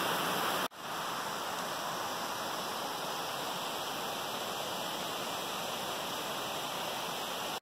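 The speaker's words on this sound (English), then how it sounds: "That's what makes it all the way to that little slope and that little cut in the levels to make another beautiful waterfall." A waterfall pours steadily on a walking trail, a dense, constant broadband roar that stays loud and unbroken after a brief dip near the start, with no voices over it.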